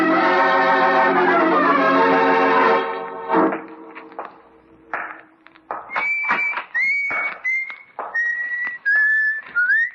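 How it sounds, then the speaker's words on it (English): A man at work whistles a jaunty tune in short clear phrases, near and fairly loud, following a held organ-like chord that fades out, with a few soft knocks between notes. "Whistle while I work."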